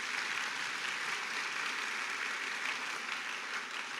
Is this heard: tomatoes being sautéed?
no